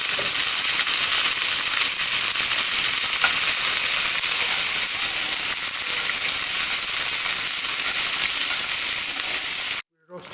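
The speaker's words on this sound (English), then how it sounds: "We're roasting our nuts and raisins and on medium heat and very low heat" Nuts and raisins roast in ghee in a pan over medium to low heat, for Afghan beef Kabuli pulao. A loud, steady sizzle continues without a break for about ten seconds, then cuts off abruptly near the end.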